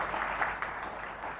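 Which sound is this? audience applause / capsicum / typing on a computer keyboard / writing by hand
audience applause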